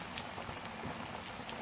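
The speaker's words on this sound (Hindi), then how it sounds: "बाकी चिकन भी शामिल कर देंगे इसी तरह, सेम इसी तरह फ्राई करेंगे" Chicken pieces frying in oil over a medium flame give off a dense, even hiss with fine crackling spatter, steady and close throughout.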